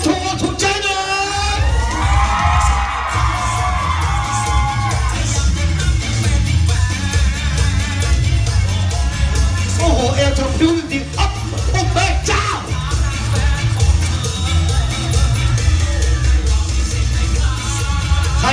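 A loud crowd at a Thai stage performance screams, yells and cheers continuously, with shrill shrieks rising above a dense roar of voices.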